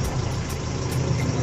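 A Toyota 4K carbureted engine idles steadily up close, a continuous low mechanical rumble with no voices.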